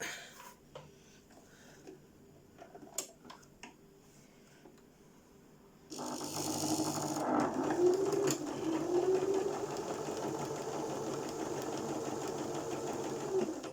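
A sewing machine stitches a fabric face mask, running in a steady, continuous mechanical whir for several seconds after quieter handling clicks and rustles.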